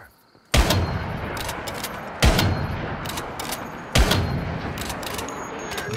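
Gunfire in the survival shooter Once Human: three heavy shots or bursts about 1.7 seconds apart, each a sharp loud crack with a long ringing tail that blends into steady background noise.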